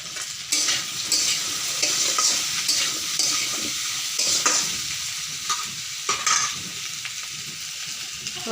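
Mukhi kochu (taro) frying in a pan is stirred steadily, a soft continuous sizzle broken by repeated scraping and clinking strokes close by.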